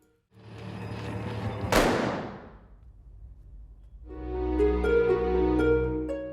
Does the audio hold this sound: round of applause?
no